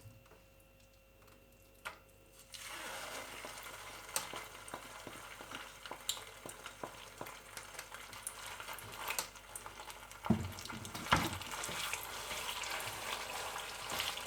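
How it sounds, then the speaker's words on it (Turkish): Tomato paste and pepper paste frying in a hot pan, a steady sizzle that starts after a quiet opening and carries on with scraping stirs and occasional sharper clicks. No one speaks. "Salçamızı biraz kavuruyoruz arkadaşlar."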